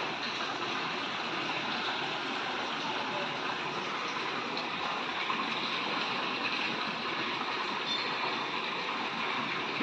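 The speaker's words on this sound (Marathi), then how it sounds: "पाणी वाहत आहे कंटिन्यू वाहत आहे" Water flows continuously from a channel at an old temple, a steady broadband rush heard alone and unbroken at a moderate distance.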